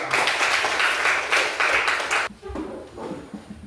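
A short burst of applause from a group, loud and steady for about two seconds, then it stops and quieter room noise follows.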